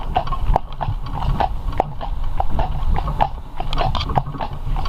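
A donkey walking outdoors, its hooves striking in a steady, close clip-clop rhythm throughout, with rustling and movement noise in the background.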